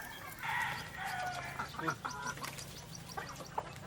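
Several chickens cluck and squawk close by in short irregular bursts as they are fed, with a steady low hum underneath.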